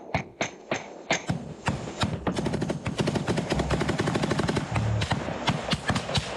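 Rapid gunfire with heavy thuds, like a grenade explosion sound effect: loud bursts of close shots build into a dense, continuous automatic rattle, with no clear voices.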